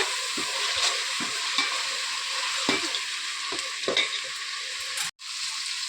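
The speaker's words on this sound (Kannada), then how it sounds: "ಹಸಿ ಮೇಲೆಲ್ಲ ಹೋಗೋ ಥರ ಎಣ್ಣೆಯಲ್ಲಿ ನೀಟಾಗಿ ಫ್ರೈ ಮಾಡ್ಕೋಬೇಕು" Ground green chili paste fries in oil, giving a loud, steady close sizzle with scattered stirring scrapes and a brief dropout near the end.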